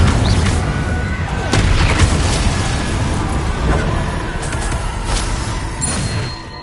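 Confringo blasting curse going off in the Hogwarts Legacy video game: a booming, explosive burst with rumbling low end and sharp cracks within a dense, continuous wash of in-game spell effects and battle noise.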